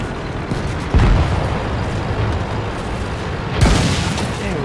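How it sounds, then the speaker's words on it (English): Two heavy shell impacts from a Churchill 7 tank in a tank video game, each a loud, deep boom a few seconds apart over a constant rumbling engine drone. "Taking fire from a Churchill 7. Penetration."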